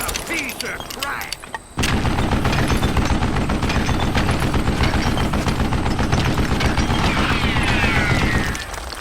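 Sustained gunfire from a mounted gun in the Call of Juarez Gunslinger video game, a dense rapid burst of shots that starts after a couple of seconds and keeps hammering loudly, with scattered shots and effects before it.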